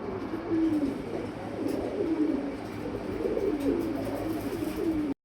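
Pigeons coo in repeated low rolling calls, close and steady over faint background noise, until a sudden cut at the end.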